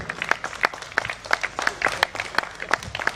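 An outdoor town-festival crowd applauds, sharp individual claps ringing out in a loose, moderately loud patter throughout.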